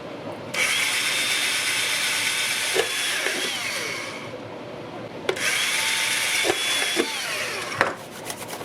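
A power drill bores holes in a plastic bucket lid for a moss water filter, two separate whining bursts of drilling, each running a few seconds with clicks and knocks as the bit breaks through, close and loud.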